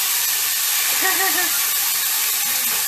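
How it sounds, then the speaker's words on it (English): Sherry hits a hot pan of chicken and peapod stir-fry and sizzles in a loud, continuous hiss, while a voice speaks briefly over it. "you're going to stick in about 2 tablespoons of sherry"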